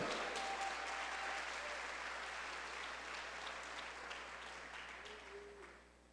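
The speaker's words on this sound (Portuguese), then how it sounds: "Então aplauda e glorifique a Ele." A church congregation applauds in praise, a dense, sustained wave of clapping in a large room that slowly tapers off toward the end.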